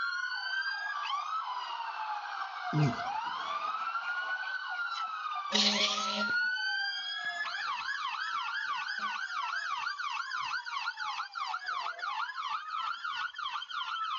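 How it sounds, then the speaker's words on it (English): Emergency vehicles pass in a small-town homecoming parade, their sirens wailing and yelping loudly and continuously, with a brief air-horn blast midway and faint voices beneath. "at least everybody's sirens work"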